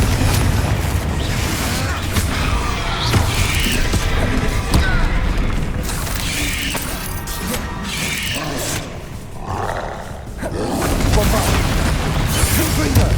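Repeated Confringo spell explosions in Hogwarts Legacy combat, loud close booms and bursts landing one after another over a constant dense roar of battle.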